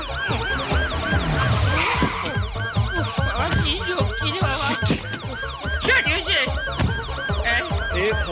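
A police car siren wails in repeated rising and falling sweeps, loud and sustained across the whole stretch, over busy street noise and voices.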